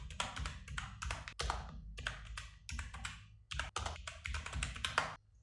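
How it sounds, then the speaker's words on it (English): Rapid bursts of close computer keyboard typing with several short pauses between runs of clattering keystrokes, moderately loud and with no voices. "And now let's type over here whatever you want to type."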